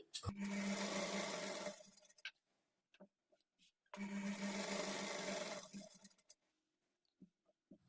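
A sewing machine stitches a fall onto a saree in two loud, steady runs of about two seconds each, separated by quiet pauses with a few light clicks of handling.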